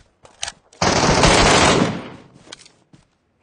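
A burst of automatic gunfire in the Metro escape shooter video game, a loud sustained volley of about one second, preceded and followed by a few scattered shorter shots and quiet gaps.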